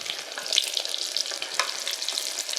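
Thin breaded pork cutlets shallow-frying in a pan give a close, steady crackle of fine popping and sizzling bubbles, alone with no talk.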